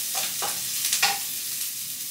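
Cumin seeds and onion sizzle steadily in a pan for an Indian dinner, with a few soft stirring scrapes near the start.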